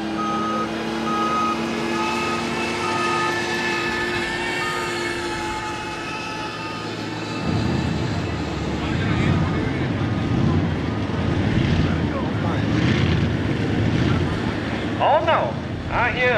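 A monster truck at a truck and tractor pull in Millers Tavern, Virginia, with a loud engine that swells midway into a heavy roar, reversing beeps and a tonal whine layered over it, and crowd and announcer voices in the background.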